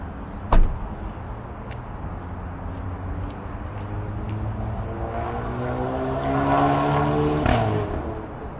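A southbound Brightline train passes over the Kyoto Gardens Drive road crossing in Palm Beach Gardens, Florida, a rising rumble with a sharp clank early on and another bang near the end as it rolls through.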